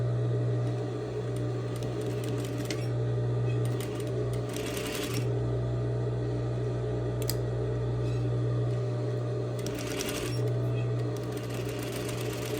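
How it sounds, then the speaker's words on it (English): A sewing machine runs a straight stitch with back stitching along a seam joining a tote bag's facing to its lining, a steady close motor hum with a few brief pauses and restarts. "I'm going to go ahead and just do a straight stitch, stitching and back stitching at the begin and end of my seam"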